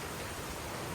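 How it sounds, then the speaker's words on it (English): Heavy rain pours down steadily outside a trail shelter, a dense, unbroken hiss that stays loud and even throughout with no talking. "It's pouring out there right now."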